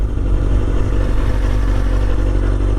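A motorcycle carrying a passenger, riding and slowing toward a stop sign, produces a loud, steady engine and wind rumble that stays constant throughout with no talk.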